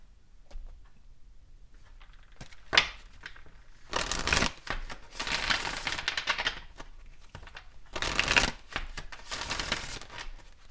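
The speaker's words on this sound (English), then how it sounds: "Let's get some more oracle cards here." Oracle cards being shuffled by hand in a quiet room, with bursts of riffling and slapping card noise in several bouts, loud and close, separated by softer rustling and handling sounds.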